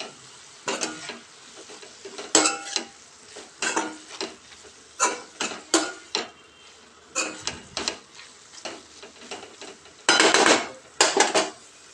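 Spring onion greens with chilli powder are stirred in a pan, with repeated sharp clinks and scrapes of a spoon against the metal over a faint sizzle, in uneven bursts.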